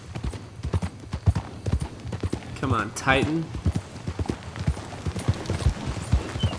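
Rhythmic horse hooves clip-clop steadily throughout in the video game Red Dead Redemption 2, with a voice speaking briefly in the middle.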